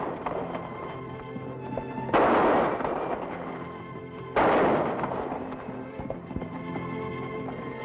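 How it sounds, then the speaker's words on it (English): Two loud gunshots from a 1950 Western scene crack about two seconds apart, each ringing out in a long decaying echo over a low, steady musical background. "Very good shooting, Pancho."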